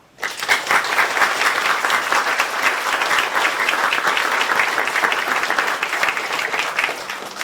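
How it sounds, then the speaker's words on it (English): A round of applause from the crowd at a VFW Loyalty Day ceremony honoring the Nashua Junior ROTC. It is sustained, even clapping that starts abruptly and carries on steadily throughout. "Could we please have a round of applause for the Nashua Junior ROTC for participating in today's ceremony?"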